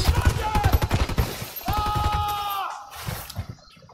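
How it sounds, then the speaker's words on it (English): Gunfire in the Ghost Recon Wildlands video game: dense, rapid bursts of automatic fire crackle loudly up close, then give way to a lingering tonal whine and scattered shots, with voices faintly mixed in. "They're shooting that way."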